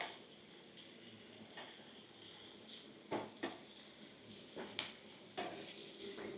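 Vegetables and cashews stirred together in a pan for veg fried rice, giving a soft, steady sizzle with a few light scraping and clinking strokes of a spoon against the pan, close but quiet.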